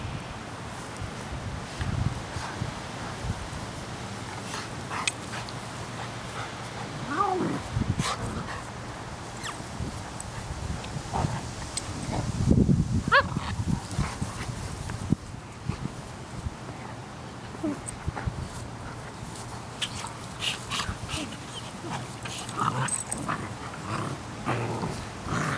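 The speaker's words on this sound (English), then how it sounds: "Rhodesian puppy getting aggressive on a golden" An 8.5-week-old Rhodesian Ridgeback puppy play-fights with a 3-year-old golden retriever, with scuffling, small growls and whimpers coming and going close by, plus a louder burst of rough play midway and a steady wind-like background.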